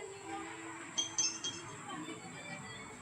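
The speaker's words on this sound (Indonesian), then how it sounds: "kita masukkan batu kerikil ke dalam" Small pebbles drop into a glass bottle, making a few faint, quick clinks and chinks in a short cluster over a low steady background hum.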